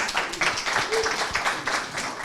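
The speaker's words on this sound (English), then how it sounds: "Clap your hands." Audience members at a university conference on the future of universities in Europe clap in a short, lively burst of overlapping hand claps, with a voice speaking over the applause.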